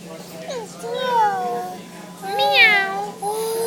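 A young child imitates a cat, giving two drawn-out meows with rising and falling pitch, close and clear at a family dinner table.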